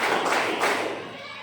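A group claps hands twice in quick succession during a classroom counting exercise. The claps are fairly close and crisp, then fade into quiet.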